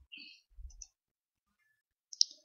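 A few sharp mouse clicks in the Grepolis browser game interface, spaced apart with quiet gaps between them, close and isolated.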